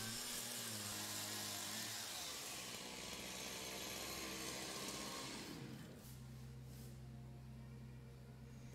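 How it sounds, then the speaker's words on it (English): Chainsaw cutting wooden floor pieces for a boat restoration, a loud steady engine roar that bogs down as it bites into the timber and then settles to a lower pitched whine, with no talk. "Barry Dan uses the chainsaw to cut an outline shape of the floors"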